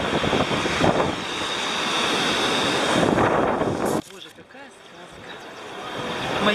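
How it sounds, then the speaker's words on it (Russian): Black Sea waves wash onto the shore at Yalta on a cold, windy day, surf rushing in beneath heavy wind buffeting, then easing before building again as a voice speaks. "Мое любимое Черное море."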